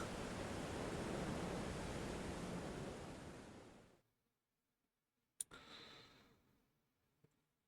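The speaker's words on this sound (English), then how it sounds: "Oh wow! It's a legit waterfall." A waterfall in the game Fate/Grand Order roars as a loud, steady rush of water for about four seconds, then fades out, followed by a brief sharp click and a short softer burst.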